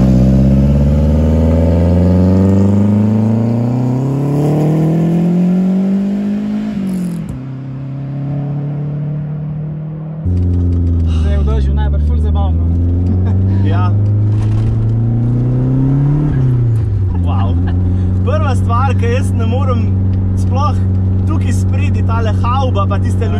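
A Lancia Delta Integrale HF Evo 1 engine revs and pulls while driving, its pitch rising through the gears with a brief drop and shift before climbing again. The engine is loud and close, and voices are heard over it.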